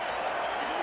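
Distant stadium crowd roaring and applauding at a Wigan v Warrington rugby league match, a steady broad wash of cheering beneath commentary.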